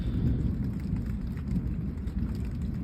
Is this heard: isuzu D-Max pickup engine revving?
no